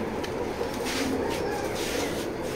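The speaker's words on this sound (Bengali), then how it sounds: "বিগ সাইজের একটা টপ কোয়ালিটির একটা কবুতর" Racer pigeons coo softly and steadily in a loft, the low murmuring continuous against a busy background with no clear talk.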